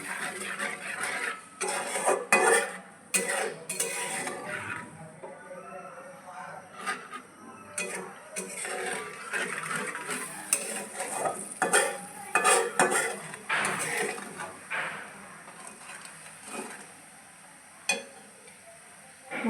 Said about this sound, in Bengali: এখন এই মশলাটাকে একটু কষিয়ে নেব।